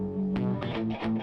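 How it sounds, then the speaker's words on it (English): Distorted electric guitar stem from a song, played alone in short bright bursts with a roomy amp sound, loud and upfront. "Listen to this distortion."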